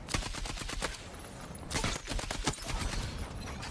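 Gunfire in the Battlefield 6 Redsec battle royale video game, dense rapid bursts of automatic shots with a few heavier cracks, loud and continuous throughout, with no talk.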